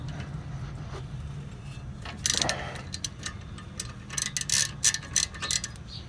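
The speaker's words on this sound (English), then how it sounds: "So you just grab your socket, lefty," A ratcheting socket wrench loosens the caliper bracket bolts on a Hyundai Elantra during a brake rotor and pad swap, giving bursts of rapid clicks over a low garage hum.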